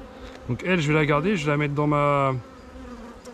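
A virgin honeybee queen pipes in a tonal, warbling buzz that lasts nearly two seconds. Someone speaks French at the same time.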